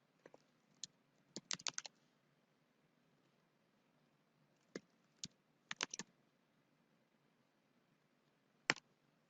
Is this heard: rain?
no